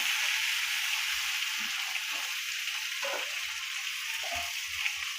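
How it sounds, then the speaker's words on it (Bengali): Pointed gourd frying with turmeric in a pan gives a steady, even sizzle of hot oil that runs the whole way through, close and moderately loud, with faint stirring bumps underneath and no talk. "পটলটা ভাজা হতে থাক,"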